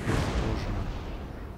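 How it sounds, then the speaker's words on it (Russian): Cannon fire from a Napoleonic-era battle in the strategy game Napoleon: Total War, a dense rumble of booming artillery shots rolling together with no distinct pauses. "Пушки палят, пушки палят, по нам просто безбожно."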